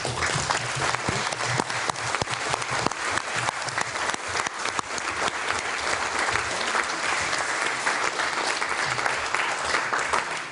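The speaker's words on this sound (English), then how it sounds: "I would like you to join me in applauding them for their fantastic" An audience applauds panellists at a Scottish independence commission event, a sustained dense wash of clapping from a sizeable crowd that holds steady for about ten seconds.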